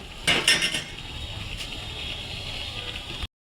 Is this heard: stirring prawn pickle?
yes